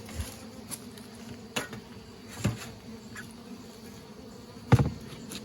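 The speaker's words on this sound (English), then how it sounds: "Look at Cora blocking those bees from going in the back door" Honey bees buzzing around a backyard beehive during a honey check, a steady low insect drone with a few louder buzzes as bees fly close past, no talking.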